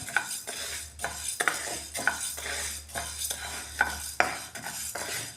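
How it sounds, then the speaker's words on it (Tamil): Urad dal dry-roasting in a pan over a medium flame, with repeated scraping and stirring strokes in an uneven rhythm over a low steady hiss, close and moderately loud, no voices. "மீடியம் ஃப்ளேமில் வச்சு வறுத்துக்கிடணும்"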